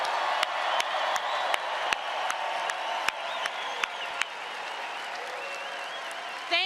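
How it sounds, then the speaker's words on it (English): A political rally crowd in Tulsa, Oklahoma applauds law enforcement officers with sustained clapping and scattered cheers, heard from a distance and fairly faint, with sharp loud claps and a whoop near the end. "Let's give a round of applause to the law enforcement officers in our country right now."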